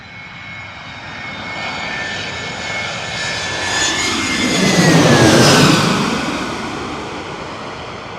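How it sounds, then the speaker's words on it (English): An Airbus A321 airliner passes overhead on approach to Fort Lauderdale, its engine roar building steadily to a loud peak and then fading slightly, with no talk. "Fort Lauderdale, Airbus A321 coming on in."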